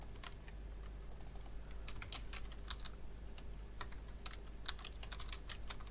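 Close fingers type on a computer keyboard in irregular bursts of quick clicks, with short pauses between keystroke runs, over a low steady room hum and no talking.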